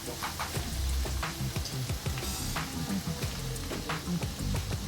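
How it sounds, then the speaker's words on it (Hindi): About 300 grams of chopped onion sizzling in hot oil in a kadhai, a steady crackling fry with soft stirring scrapes running throughout, close and even, without speech. "एक कढ़ाई में हम तेल ले चुके हैं। ये इसमें हम डालेंगे कटा हुआ प्याज।"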